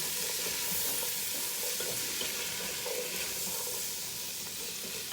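A pot of rinsed beans with onions and ham being stirred over medium-high heat, giving a steady close-up scraping and soft sizzle throughout, with no talk.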